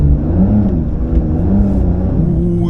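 Porsche 911 Dakar engine revving and rumbling steadily while driving across desert sand dunes, a loud, close, continuous drone with rising and falling pitch and no voices.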